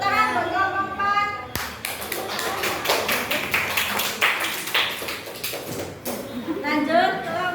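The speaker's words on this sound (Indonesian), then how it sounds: "Tepuk tangan buat kelompok 4." A classroom of children applauding a student group, rhythmic synchronized clapping in a steady patterned beat, loud and close, with kids' voices before and after.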